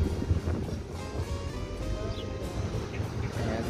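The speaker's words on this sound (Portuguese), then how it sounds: "Lá no posto da serra é uma ventania, um frio." Strong wind buffets the microphone on a cold mountain road at a highway gas station, a steady low roar with gusting swells and no clear talk throughout.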